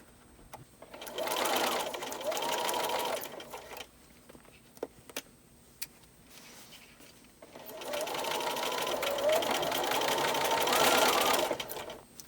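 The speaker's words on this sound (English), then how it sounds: "sew your tape onto the bottom of your pants. Back tack at the beginning and at the end, and remove pins as you go" A sewing machine stitches lace tape onto a pant hem in two long, steady runs of motor whir, separated by a quiet pause with a few small clicks and taps.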